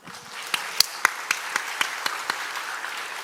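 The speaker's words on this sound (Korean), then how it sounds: "주님께 영광의 박수 올립니다." Congregation applause at a Methodist church revival service, a fairly quiet patter of claps with a few sharper individual claps standing out, steady over a few seconds.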